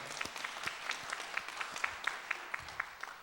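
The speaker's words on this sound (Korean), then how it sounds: "우리 하나님께 영광의 박수 올려드리겠습니다" A church congregation claps steadily in sustained applause during a Sunday service, many hands blending into a dense, even patter.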